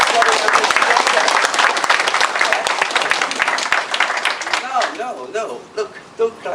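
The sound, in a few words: audience clapping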